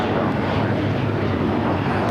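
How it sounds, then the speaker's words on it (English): A Qantas Boeing 787 Dreamliner arriving at LAX from Sydney makes a loud, constant low rumble of engine noise with some wind buffeting, no voices present. "the Qantas Dreamliner Flight 11 coming in from Sydney, Australia"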